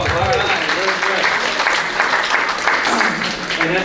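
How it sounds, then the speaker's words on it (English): Clapping from a small, lively audience at an informal gathering comes through as a brief steady patter close by, with voices talking over it the whole time. "Let's get a little hand of applause there for you all."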